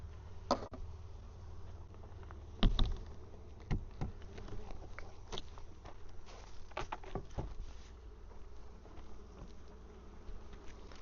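Bees buzz around open hives during mite washing, a soft continuous hum punctuated by a few sharp taps and knocks close by.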